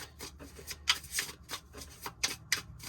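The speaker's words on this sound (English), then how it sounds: "All right, one more shuffle." Tarot cards are riffled and shuffled in quick, crisp bursts, close by and fairly quiet, with brief pauses between passes.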